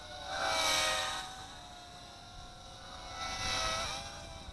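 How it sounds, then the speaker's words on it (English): A JJRC JJ800 quadcopter drone flies without prop guards, making a high whirring buzz that swells as it passes close, fades, then rises again as it returns. No speech is heard. "It becomes a much more maneuverable little quadcopter."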